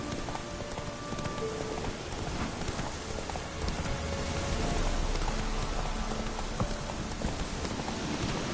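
Roach, Geralt's horse in The Witcher 3, galloping in a steady rhythm of hoof clip-clops over a rain-like wash of ambient noise, with game music tones faintly underneath and no speech.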